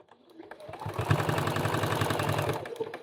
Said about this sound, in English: Now I'm going to use my Juki and I'm going to set my needle at 1/4 inch.